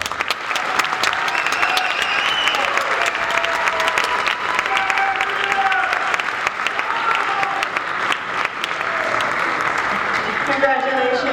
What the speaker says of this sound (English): So can we give them one more round of applause?